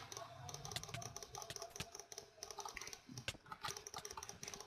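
A computer mouse clicking amid keyboard use while playing a PvP game, a dense run of close, sharp clicks and taps with no talk.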